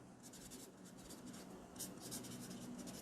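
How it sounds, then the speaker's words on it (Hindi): Marker writing on a classroom board, faint squeaky strokes in short repeated bursts over a low steady room hum, with no talking. "इसकी डेफिनेशन लिखते हैं"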